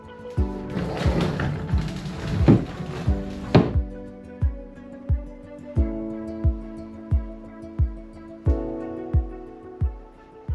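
Cupboard doors in a laundry room opened and handled, with clattering thumps at first, then a steady series of evenly spaced knocks, close by and fairly loud, with no voices.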